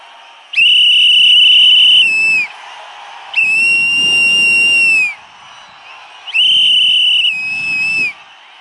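Loud shrill whistles blow in three long sustained blasts, each about two seconds with gaps between, from a crowd at a political rally, with faint crowd noise underneath.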